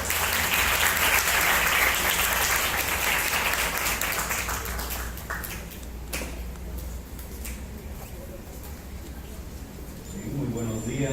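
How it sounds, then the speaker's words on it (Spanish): Loud applause from an audience at a university psychology week event welcomes a speaker, strong at first and then gradually fading, with a few scattered claps and stray noises before speech begins near the end. "Lo recibimos con fuertes aplausos"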